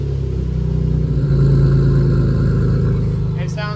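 A Nissan 350Z's engine revs and idles close up after an exhaust rattle repair, a loud, steady mid-pitched drone that swells slightly and then settles, with a brief higher chirp near the end.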